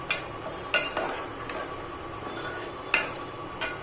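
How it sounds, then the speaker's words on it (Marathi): A spoon stirs chicken curry in a pan, with a few sharp scraping clicks against the metal over a soft background sizzle. "तर हे ना आता असं हलवून घ्यायचं."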